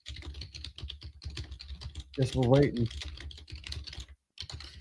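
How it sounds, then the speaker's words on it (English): Steady computer keyboard typing, quick and continuous clicking close by, with a person talking briefly over it midway. "You can hear my typing"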